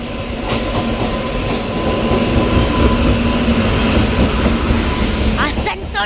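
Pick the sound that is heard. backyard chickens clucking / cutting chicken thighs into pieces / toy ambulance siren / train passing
train passing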